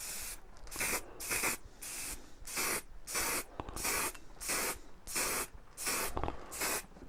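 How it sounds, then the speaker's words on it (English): Spray lacquer hisses onto small wooden Christmas tree pieces in about nine short, evenly spaced bursts, each a sharp, close hiss separated by brief pauses. "I shall get these finished off with a spray lacquer like last time"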